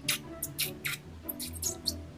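Styrofoam being cut open makes a string of short, squeaky, scratchy bursts with brief gaps between them, fairly close and moderately loud, with no talking.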